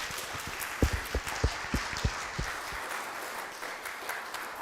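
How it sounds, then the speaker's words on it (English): A small gathering in a chapel applauds the finance team, with a few distinct, close, rhythmic claps standing out over lighter scattered clapping before the sound tapers off. "So if we could just give a round of applause to our finance team."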